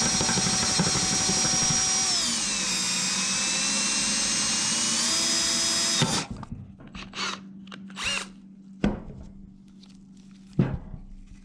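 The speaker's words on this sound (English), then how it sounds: "this bit came with the clutch basket specifically to drill these out" A power drill with a bit made for the job drills out clutch basket rivets on a motorcycle during a Rekluse Z Start Pro install, giving a loud, steady, high whine for six seconds, then short bursts and clanks of metal.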